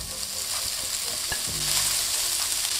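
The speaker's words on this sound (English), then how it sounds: "When the pan is nice and hot, in with your beef bacon." Beef bacon sizzles and crackles in a hot pan, a steady close frying hiss with a few soft knocks and scrapes from stirring, with no talking.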